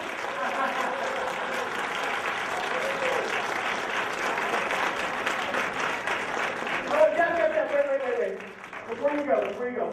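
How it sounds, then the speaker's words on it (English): Audience applause and cheering at a live show, sustained loud clapping for several seconds that thins out near the end as a voice speaks over it. "The crowd goes wild."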